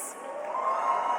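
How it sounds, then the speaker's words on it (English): Crowd at the 2024 Australian Game Developer Awards ceremony, a brief swell of clapping and cheering from the audience, fairly loud and continuous. "Let's get the applause going before we announce"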